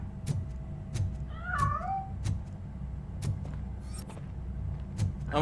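A cat meowing in the video game RoboCop: Rogue City, one clear rising-and-falling meow heard mid-clip among repeated soft footstep-like knocks over a low ambient hum, with another cry at the end.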